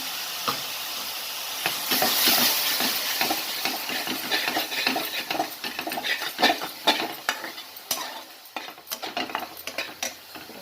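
Tomato puree is stirred into a hot pan for paneer do pyaza, giving a low sizzle under repeated scraping and clinking strokes of a utensil against the pan, close and irregular, with no talking.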